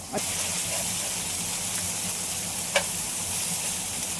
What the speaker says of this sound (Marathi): हे सर्व जे बोंबील आहेत ना मी सर्व तलून घेते